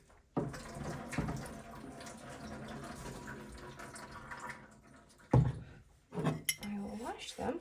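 Tap water runs steadily into a sink while dishes are rinsed in an off-grid Alaska cabin kitchen, a continuous wash of splashing with clinks of dishes near the end.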